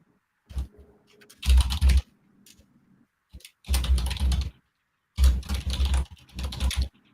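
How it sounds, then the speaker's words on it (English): Slow typing on a computer keyboard, with three separate bursts of close, crisp key clicks divided by short quiet pauses and no voices. "I don't know if y'all hear the keyboard or not, but I ain't trying to type too fast so y'all can hear it. I'm trying to type slow."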